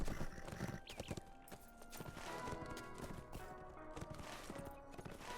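A horse's hooves clip-clop in Lord of the Rings Online, a steady run of hard knocks under a dense bed of game music and ambience, fairly quiet overall.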